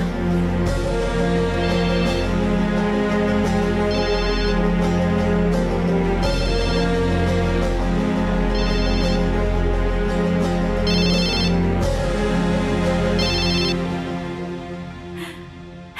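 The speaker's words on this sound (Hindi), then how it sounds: "लगता है किसी की कॉल आ रही है," A phone ringtone for an incoming call plays loudly and steadily, repeating its bright chiming pattern several times before fading at the end, with no talk over it.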